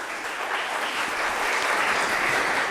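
Steady applause from an audience at a biotech skilling programme for a speaker, many hands clapping in a dense continuous patter, moderately distant and even in loudness throughout.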